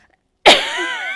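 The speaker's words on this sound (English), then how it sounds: "gonna cough, I know" A single sharp cough bursts out suddenly after a moment of silence and is close and loud, with a short ringing tail.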